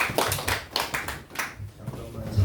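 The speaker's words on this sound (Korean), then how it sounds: "다시 한번 박수 드리고요" Audience at a church vision center event applauding a speaker, a dense burst of hand clapping that swells and fades over a couple of seconds, fairly close and loud.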